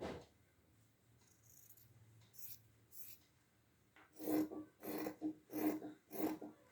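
Scissors cutting fabric for a puff sleeve, quiet snips at first and then a run of five regular, louder crisp cuts near the end, close up with no talking.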